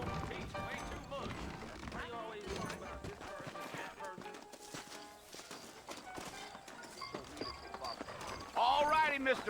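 Horses clip-clopping in the video game Red Dead Redemption, saddled and walking out front, steady hoof clatter mixed with game ambience while characters talk over it.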